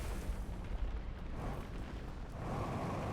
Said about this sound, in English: That scares me every single time, that explosion noise